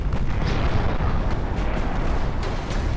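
Naval shells and a torpedo strike the carrier Akagi in the naval battle game Ultimate Admiral: Dreadnoughts: a continuous, heavy barrage of deep booming explosions and rumbling blasts, dense and loud throughout, with no voices.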